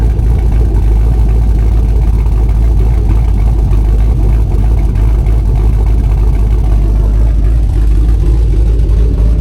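A rough, throaty engine in an LS-swapped Toyota Land Cruiser 80 Series idles steadily through catalytic converters with no mufflers, a loud, raspy exhaust drone that holds constant throughout, with no voices.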